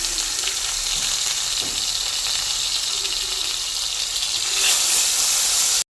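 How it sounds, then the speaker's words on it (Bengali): Whole koi fish, rubbed with salt and turmeric, fry in hot oil with a steady, loud, dense sizzle that carries on without a break and briefly swells near the end before cutting off. "তেলটা গরম হয়ে গেছে এবার আমি মাছগুলো দিয়ে দিচ্ছি"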